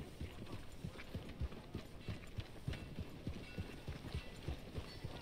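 Horse hooves clip-clop steadily at a riding pace in the video game Red Dead Redemption 2, a regular rhythmic thudding over a low ambient hum, fairly quiet and without talk.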